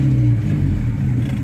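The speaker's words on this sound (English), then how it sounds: "It's idling way too high." A car engine runs at a steady, elevated idle, a low continuous rumble with a faint droning tone, close and alone with no talk, the idle set noticeably too high.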